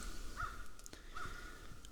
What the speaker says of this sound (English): We currently have some crows out and about.